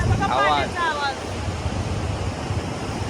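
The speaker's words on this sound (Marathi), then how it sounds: "कसला मस्त पाण्याचा आवाज" Fast-flowing water roars steadily under a bridge after heavy rain, a dense continuous wash, with a brief voice near the start.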